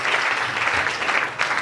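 A church congregation claps and cheers for the Lord in a brief, dense burst of applause that stays steady throughout.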